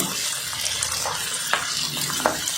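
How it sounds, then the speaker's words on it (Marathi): Edible gum (dink) frying in hot ghee for jaggery dink laddu, a steady broadband sizzle with a few brief crackling pops near the end, close and continuous with no talking. "थोडा थोडा डिंक घालायचा आहे. व व्यवस्थित असं तळून घ्यायचं आहे."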